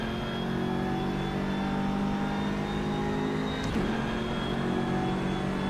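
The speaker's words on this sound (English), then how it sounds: "I miss the BMW Z4 GT3 sound. This just is nowhere near that." A front-engine, rear-wheel-drive GT3 race car engine in the rFactor 2 racing simulator holds a steady, fairly tame drone with a brief shift blip midway, continuous and alone without speech.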